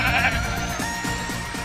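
Goats at a farm belonging to a city agricultural management committee bleat several times in a close, wavering chorus. A steady background tone runs underneath.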